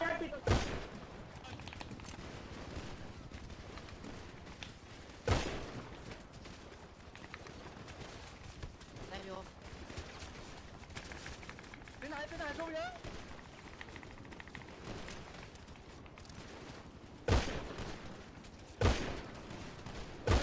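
Video game gunfire in a competitive house-raid match, with sharp loud shots cracking out at scattered intervals over a continuous background of game noise and people talking throughout.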